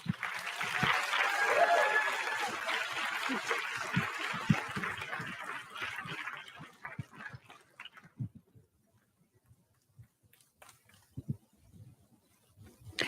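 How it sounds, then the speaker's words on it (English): A crowd at an eighth-grade graduation ceremony applauds warmly for several seconds, then the clapping thins out and fades, leaving scattered noises and a few voices. "Give yourself a round of applause."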